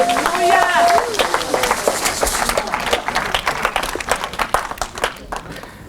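A church congregation bursts into applause and clapping during a sermon, with a raised voice at the start, then sustained dense clapping that gradually fades.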